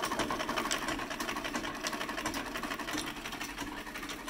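An 1889 leg-powered treadle sewing machine winding a bobbin, with a heart-shaped gear guiding the thread: a continuous close rhythmic whirring and clattering hum, steady throughout with no talk.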